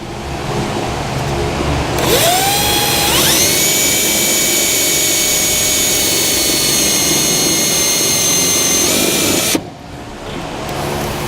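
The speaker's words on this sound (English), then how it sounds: "we can get one of the screws started" A power drill with a 1/4-inch nut driver spins up and drives a self-tapping screw while installing a Curt 5th wheel wiring harness on a 2015 Chevrolet Silverado; one loud, rising whine holds for about seven seconds, then cuts off abruptly.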